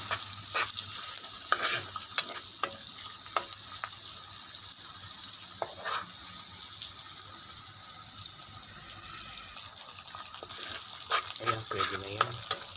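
Onion and garlic sautéing for adobo, a steady bright sizzle filling the pan close up, with scattered stirring scrapes and clinks throughout and a faint voice now and then.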